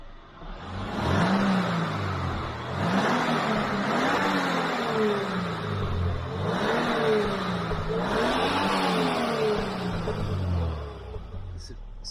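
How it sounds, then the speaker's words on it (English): A Subaru Impreza with its stock, rusty exhaust and muffler revs several times in a row, the engine note climbing and falling in repeated swells over a steady idle, close and fairly loud. "We're going to do a couple revs and see what it sounds like."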